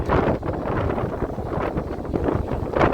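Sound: strong wind at the stormy sea in Odesa

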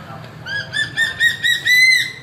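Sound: eagle calling

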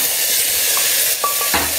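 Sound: onion paste with cumin and asafoetida frying, being stirred

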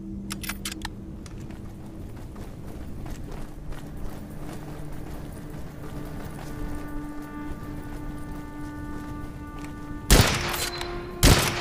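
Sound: gunshots from the video game Witchfire

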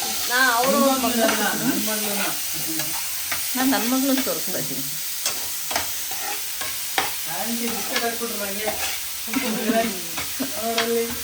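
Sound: food frying and sizzling in a pan

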